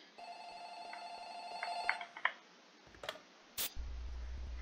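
A telephone rings inside a video game, a sustained electronic trill that stops after about two seconds, followed by a few sharp clicks and a low hum, with no talking.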